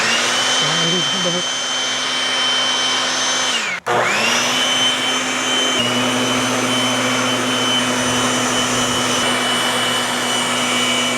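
A powerful air blower drying a Kawasaki H2 motorcycle roars continuously, its motor whine cutting out for an instant and then spooling straight back up to a steady, loud rush.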